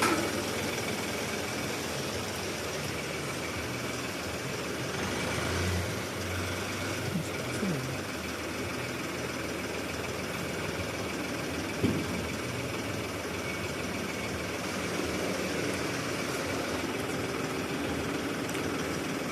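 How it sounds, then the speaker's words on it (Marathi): Ashok Leyland Bada Dost tipper truck with its engine running a gearbox-mounted PTO hydraulic pump, a steady loud droning idle with a constant rumble and no talking. "तर असा हा आपला अशोक लेलँड बडा दोस्त गाडीचा PTO ऑपरेटेड हायड्रोलिक सिस्टीम आहे।"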